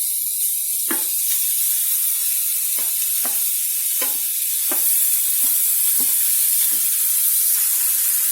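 Ground fish scraped and stirred into softened onions in a pan, a soft continuous sizzle with a series of distinct spatula scrapes and knocks spaced a second or so apart.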